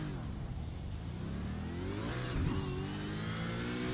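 A V8 race car's engine in a sim-racing game at Zolder revs hard from the grid at a standing start, its loud, close tone climbing steadily in pitch as the car launches.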